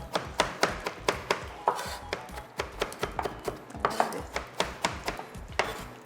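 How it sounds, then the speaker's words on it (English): Celery and chive being chopped on a cutting board, a quick series of sharp knife knocks in an uneven rhythm, close and distinct, with no talking. "We're cutting up some celery and some chive"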